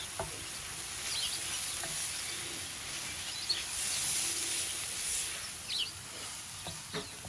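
Onion, tomato, garlic and green chilli masala with turmeric, coriander and chilli powders frying in a pan while being stirred, a steady soft sizzle with occasional scraping clicks and stir strokes, no voices.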